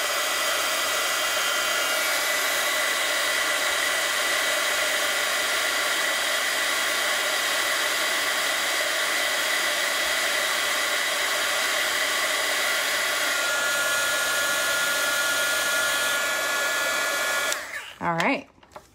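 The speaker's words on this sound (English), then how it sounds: "get your heat tool out, and just heat this up real quick" A heat gun blows steadily and loudly over a stamped, embossed card for about seventeen seconds as a continuous broadband whoosh, then cuts off with a brief clatter at the end.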